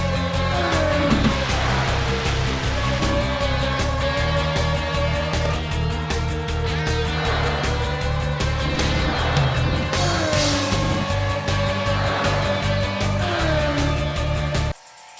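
A racing car engine in Outrun 2006 on the PSP drones loudly and continuously, rising and falling through gear changes with game music playing underneath, then cutting off abruptly at the end.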